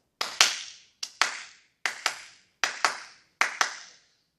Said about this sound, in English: if you have an eighth note rest followed by 2/16 notes,